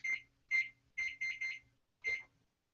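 A kitchen timer beeps as it is set, six short bright electronic chirps, some single and some in a quick cluster, close and clean in an otherwise quiet kitchen.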